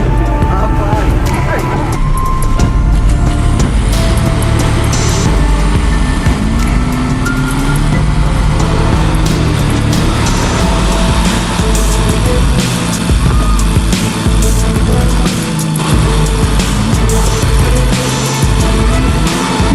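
A heavy truck's engine rumbles loud and steady as it crosses a tiny, narrow bridge, with constant low-end drive and some clanking, a voice talking over it.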